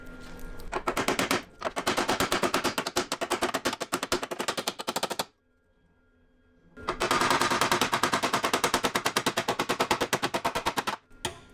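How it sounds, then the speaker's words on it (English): Rapid metallic hammering on a crease in a wrecked BMW E46 body panel, delivered in two long, fast bursts of close, loud blows separated by a short pause. "I'm just hitting where this crease is to get rid of that crease and try to make this flat"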